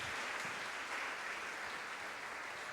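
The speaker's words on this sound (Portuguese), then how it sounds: "Você pode dar um forte aplauso a Ele?" Congregation applauding during a church service on New Year's Eve, a steady, dense wash of clapping that stays even and fairly distant throughout.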